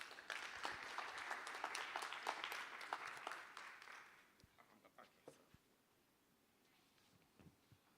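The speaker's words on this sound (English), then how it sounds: "Let's welcome him with a round of applause" Audience applause at an agricultural finance learning event, a broad wash of clapping through the first half that thins out and fades, leaving scattered claps and a voice over a quiet room.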